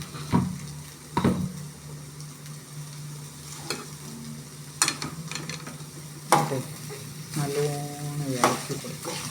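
Rice being stirred as it fries in a pan, with a steady close sizzle broken by repeated scraping strokes of a spoon against the pan.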